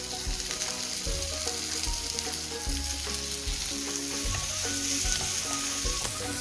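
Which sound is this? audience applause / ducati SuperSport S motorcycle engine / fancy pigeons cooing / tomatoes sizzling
tomatoes sizzling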